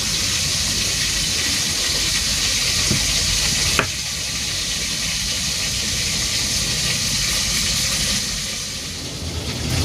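Tilapia sizzles and fries steadily in hot oil, a continuous loud crackling hiss that runs throughout, with one brief sharper pop partway through.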